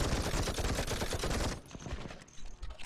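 Minigun fire in the Call to Arms video game, a dense continuous roar of rapid shots that cuts off partway, followed by scattered quieter gunfire and rumble.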